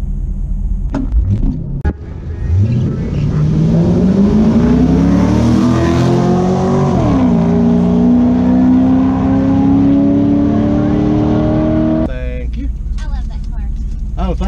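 A C5 Corvette on nitrous roars loud and close as it accelerates. The engine pitch climbs steadily, then levels into a sustained high-revving drone before cutting off abruptly.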